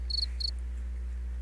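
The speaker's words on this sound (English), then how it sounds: "did you really just do the cricket sound?" Two short cricket chirps, each a rapid high trill, sound close and clear one after the other over a low steady hum, with no talking.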